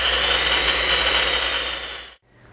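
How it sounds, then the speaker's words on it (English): An AGP DB32 electric tube bender runs its spindle in reverse back to the zero-degree start, a loud, steady whirring motor drone that cuts off abruptly near the end, leaving a quiet low hum. "press and hold the trigger until the spindle returns back to the 0 degree starting position"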